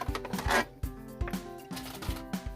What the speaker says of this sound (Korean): 이렇게 해서 종이를 잘라줍니다.